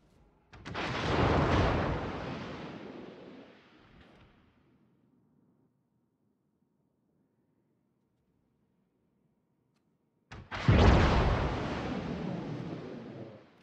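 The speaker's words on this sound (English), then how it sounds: "All stations, concentrate fire on the target." Naval artillery fire in the video game World of Warships, two heavy booming salvos several seconds apart, each a loud roaring blast that rumbles and slowly decays, with near-silence between them.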